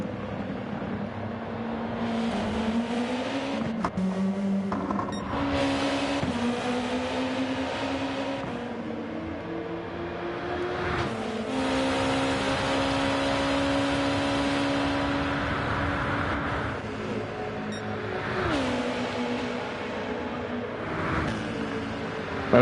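Simulated race cars circling a track with a chicane in a racing video game: a dense, continuous engine drone with pitch rising and falling as cars shift and pass, loud and steady throughout, with no talk.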